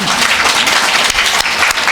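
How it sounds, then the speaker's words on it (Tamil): Crowd applause rises at a Mariamman temple festival stage show, a dense loud burst of clapping filling the whole moment. "ஒரு கைதட்டு கொடுக்கலாம்"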